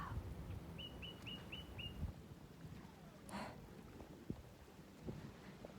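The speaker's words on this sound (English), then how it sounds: "There are some strange little birds there." Five small birds give quick, high chirps in a brisk series on an island on a light rainy morning, thin and at moderate distance over steady outdoor background noise, with a brief rushing sweep partway through.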